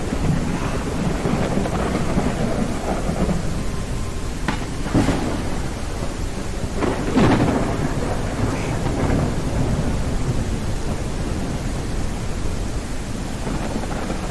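A thunderstorm in the kayaking game Kayak VR: Mirage, with steady heavy rain hissing throughout and a few sharp cracks of thunder breaking through. The storm stays loud and continuous, and no one speaks.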